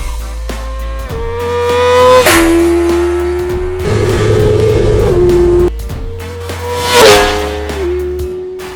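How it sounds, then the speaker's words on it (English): A 2019 Kawasaki ZX6R's 636cc inline-four engine revs hard, climbing to screaming peaks and dropping back repeatedly, loud and close with no talk. "this inline-four 636cc Screamer is spinning at full shaft. And scream it does,"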